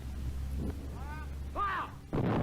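Artillery fire on a training exercise, a heavy boom at the start followed by a sustained low rumble, with brief radio-like voice tones in between and another loud blast near the end.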